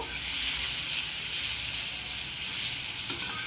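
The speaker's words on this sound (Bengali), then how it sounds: "লো টু মিডিয়াম ফ্লেমে চিকেনটাকে আমার ফ্রাই করতে হবে" Marinated chicken frying in hot butter over low to medium flame, a steady, close sizzle with constant bright hiss throughout and a faint stir near the end.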